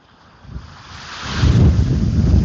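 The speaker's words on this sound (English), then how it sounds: "quite windy." Strong wind buffets the microphone, building from a low rumble to a loud, roaring gust that stays heavy to the end.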